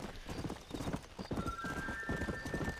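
A horse gallops in the Red Dead Redemption video game, fast rhythmic hoofbeats up close with a brief whinny-like tone partway through, steady and moderately loud.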